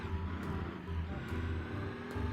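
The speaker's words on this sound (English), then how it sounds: "Cool engine sounds." A custom-built car engine in a BeamNG driving game runs with steady mid-range drone and slight revving swells, continuous and fairly close throughout with no talk.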